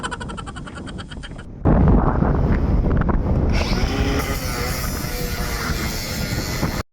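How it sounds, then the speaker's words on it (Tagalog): Strong wind blasts across the upper deck of a ship at sea, a loud, constant roar that surges in after a short stretch of different mechanical noise at the start. "Pasensya na kayo maingay kasi sobrang lakas ng hangin dito sa taas"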